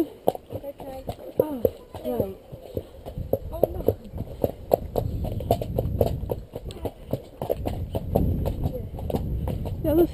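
A horse trots with a rhythmic clip-clop of hooves, fairly close and steady, while a person talks over it for most of the stretch.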